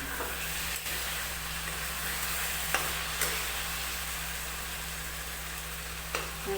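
Potatoes frying in a pan for a bell pepper sabzi, giving a steady, even sizzle throughout, broken by a few light scrapes and clicks from stirring.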